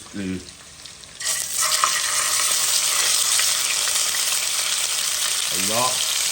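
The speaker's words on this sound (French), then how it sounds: "je vais mettre mon poisson pour frire" Swordfish steak dropped into hot oil in a pan sets off a sudden loud, sustained sizzle and crackle that carries to the end, with brief speech at the start and near the end.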